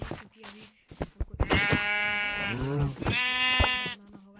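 Sheep in the video game Minecraft bleat in a few loud, wavering calls close by, with short clicks and game sounds between them.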